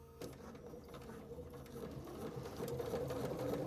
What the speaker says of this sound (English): Now when I'm stitching with this kind of thread, I actually will go purposely and try to make bigger stitches.